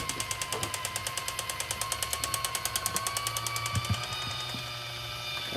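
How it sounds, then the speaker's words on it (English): A cordless electric can opener runs around a can in a kitchen, giving a close, steady motor whir with a fast regular clicking rhythm that continues for several seconds. "Here's my little handy dandy little wireless, cordless, whatever you want to call it, can opener."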